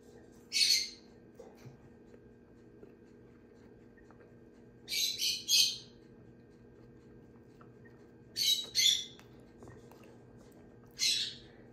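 Four bursts of shrill, harsh lovebird squawking, each a short cluster of raucous calls separated by pauses, fairly close over a quiet low hum.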